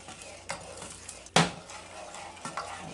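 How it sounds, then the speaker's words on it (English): Sugar and butter stirred in a pot on the stove, with sparse utensil clicks and scrapes against the metal, one sharper clink standing out over a faint low background. "I'm stirring it and bringing it to a boil."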